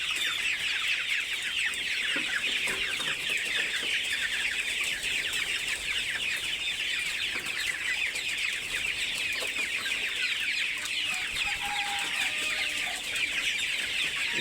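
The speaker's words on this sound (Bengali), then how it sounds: "আজকে খুব মুরগি খুব সুস্থ এবং প্রাণবন্ত একটা ব্যাপার স্যাপার আছে ভিতরে।" Sonali hybrid chickens, about 32 days old, cluck and chatter continuously inside a shed, a dense flock murmur with occasional louder calls and some wing flapping, moderately close with no voices.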